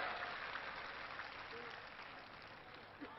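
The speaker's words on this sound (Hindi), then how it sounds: "जोरदार करतल ध्वनि से, तालियों से, गड़गड़ाहट से स्वागत करें, अभिनंदन करें" Steady crowd applause at a political public meeting in Jaipur, Rajasthan, a broad even wash of clapping held for a few seconds at a distance, with no clear voices standing out.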